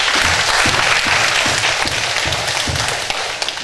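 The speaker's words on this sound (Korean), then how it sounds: "예수의 영광의 박수 한번 드리셨습니다." A church congregation claps loudly and steadily during a Sunday worship service, sustained applause that fades slightly toward the end.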